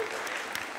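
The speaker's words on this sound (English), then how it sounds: "Give her a round of applause." Brief burst of audience clapping at a panel talk, a steady patter of many hands close by, with no one speaking over it.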